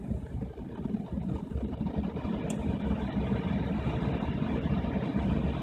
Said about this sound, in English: we'll turn the fans on. And as you can see, we're getting some decent air blowing